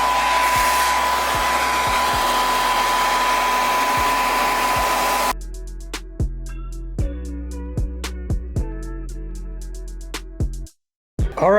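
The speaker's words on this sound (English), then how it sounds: "let's go ahead and turn this dryer on and see if it works" A hair dryer roars steadily at close range, blowing on plastic wrap over a sneaker, then shifts to a harsher tone with rustling plastic crinkles and taps, cutting off briefly near the end.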